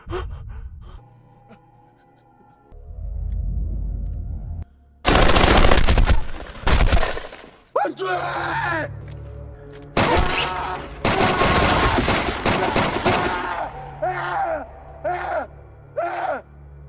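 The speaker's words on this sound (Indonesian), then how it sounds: "melihat Jun-suk tertembak, Jang-hoo pun lekas membabi buta meski pada akhirnya ia harus tertembak juga" Gunfire in a violent action film scene from Time to Hunt, loud bursts of rapid shots and blasts alternating with pauses, gasps and groans, backed by tense score.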